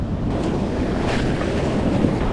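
Ocean surf at Ocean City heard from the water while bodyboarding, a steady loud wash of breaking waves with rushing wind buffeting the microphone throughout.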